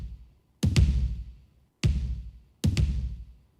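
Electronic kick drum shaped with a Kick Shaper plugin, punchy low thumps in a sparse pattern with a quick double hit, each tail cut fairly short, played alone.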